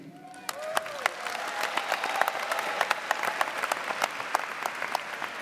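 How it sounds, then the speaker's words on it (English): Graduation audience applauding a $500 scholarship award at a high school commencement, steady clapping from a large crowd in a hall, with sharp individual claps standing out over the dense wash. "Another round of applause."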